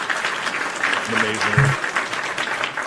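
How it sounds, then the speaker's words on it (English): Studio audience on a live wrestling talk show claps and cheers, a dense burst of applause with a short tonal sound partway through. "everyone, round of applause"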